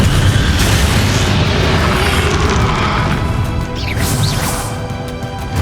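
Confringo blasting spell going off in Hogwarts Legacy, a loud, sustained burst of booming, crashing impact noise with a whooshing sweep near the end, heard alone without talk.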